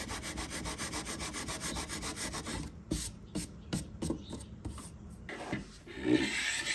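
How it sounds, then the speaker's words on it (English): Raw wood drawers are hand sanded in rapid back-and-forth rubbing strokes, a close scratchy rasp that runs continuously, then breaks into short separate passes, with no one talking. "it's a good option too to help kind of get that hand sanding going."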